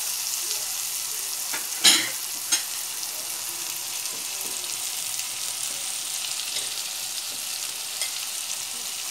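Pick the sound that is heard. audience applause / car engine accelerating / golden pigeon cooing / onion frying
onion frying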